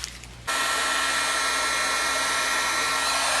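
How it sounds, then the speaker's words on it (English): A heat tool starts up with a click and then blows a loud, steady, hissing whir of hot air to melt embossing powder on a handmade card, running on without a break. "let's get on to the fun part and melt this embossing powder."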